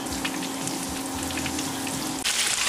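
Battered shrimp frying in hot oil for tempura, giving a steady close sizzle with dense crackling bubbles that grows louder and brighter near the end as more shrimp drop in; no one speaks.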